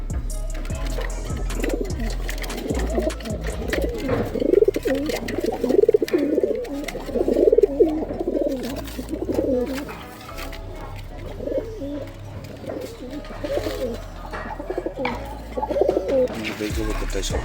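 Pigeons coo in repeated soft, throaty phrases close by, a steady run of low rolling calls that continues throughout with slight pauses between bursts.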